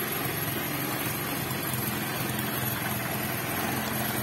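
A Honda Vario scooter fitted with a Yamaha Mio Sporty CDI idles steadily, its engine running as a continuous low rumble with even vibration throughout, close and moderately loud, with no talking.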